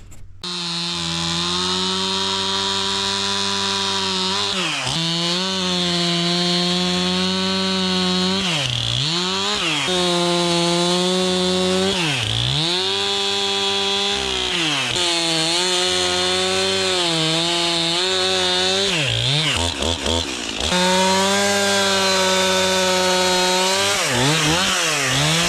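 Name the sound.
chainsaw cutting a 300-year-old oak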